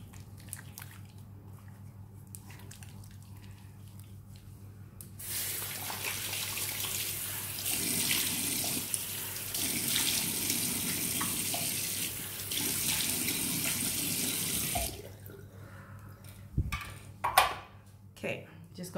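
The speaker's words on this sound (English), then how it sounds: "And then I'm going to wash my face." A bathroom tap runs steadily into a sink for about ten seconds while someone washes their face, with splashing and water squishing against skin, and a person talks faintly before and after.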